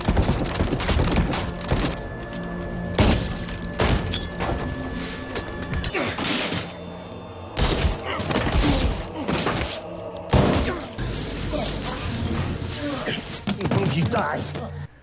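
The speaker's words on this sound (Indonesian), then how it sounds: "terjadilah kontak tembak di antaranya" A gunfire exchange from the film Shrapnel, with bursts of sharp shots and crashing impacts scattered irregularly amid tense music and background sound, loud and busy throughout.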